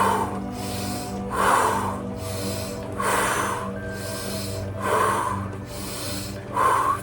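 Rapid breathwork breathing during a guided nervous-system activation exercise, with about five louder breath bursts repeating roughly every second and a half, close and alone over a steady low background hum.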